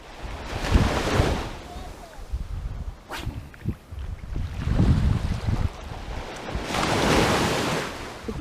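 Sea waves breaking on a shore in St Elizabeth, Jamaica, slow rolling surges swelling and fading roughly every few seconds, heavy wind buffeting the microphone, fairly loud and close.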